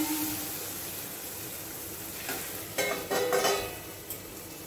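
Mixed vegetables stir-fry in a pan for a sandwich filling, a soft steady sizzle with a few louder scraping stirs near the middle, fairly quiet and close, with no talking.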